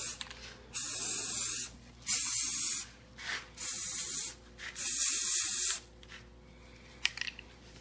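A spray can primes a 3D printed Kill Team tabletop terrain piece in several loud close hissing bursts, each lasting about a second, separated by short pauses, followed by a few faint clicks.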